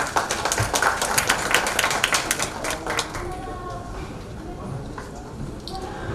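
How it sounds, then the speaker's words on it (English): An audience at an evening event claps to welcome a woman onto the stage, a dense spread of hand claps that gradually thins out while a voice carries on over it. "let's welcome her with a big round of applause"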